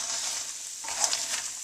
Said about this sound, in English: I'm going to melt this sugar here.